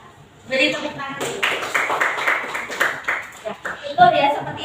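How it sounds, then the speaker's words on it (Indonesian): A classroom group claps hands in a quick, rhythmic burst of sharp claps. Voices talk and call out around and over the clapping. "Beri tepuk tangan."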